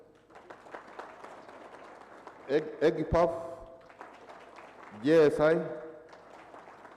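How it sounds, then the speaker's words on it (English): An audience at a health learning event breaks into brief bursts of clapping between stretches of a speaker addressing the room, the applause moderately loud and short-lived. "I think I will now be asking for claps for everyone."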